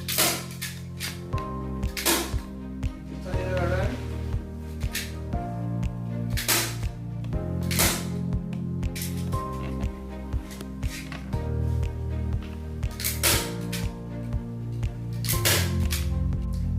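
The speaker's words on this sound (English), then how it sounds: "I'm going to begin to staple it together." Material is stapled together while building an Atlanta Falcons sport table, with sharp, separate snapping clacks spaced a second or two apart over a low background hum, close and distinct.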